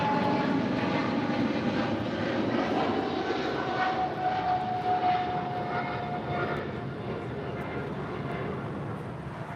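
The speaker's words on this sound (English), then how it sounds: "Japan Airlines Flight 15 departing to Tokyo Haneda on the 777-300ER in the One World livery." A Japan Airlines Boeing 777-300ER in oneworld livery departing Los Angeles International Airport for Tokyo Haneda, its jet engines a loud, steady roar that slowly eases as it pulls away.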